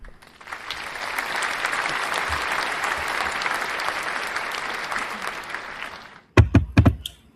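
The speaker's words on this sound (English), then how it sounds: "So a round of applause for Joanna." Audience at a games forum breaks into sustained applause, a dense wash of clapping that swells and holds for about six seconds before stopping, followed by a few louder close knocks or thumps.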